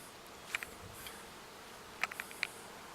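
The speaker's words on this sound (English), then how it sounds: "Okay, so I got the bees here." Honeybees being moved into a top bar hive, heard as faint, scattered buzzes of individual bees passing close over a steady outdoor hiss, with a few brief louder flybys.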